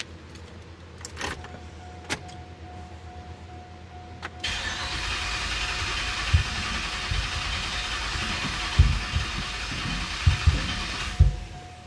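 A 2007 Pontiac Solstice GXP engine starts after a few clicks and a steady chime, then settles into a rough idle with irregular low thumps, heard close up after a cam gear swap.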